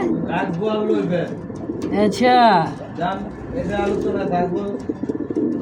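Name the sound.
male pigeon cooing at market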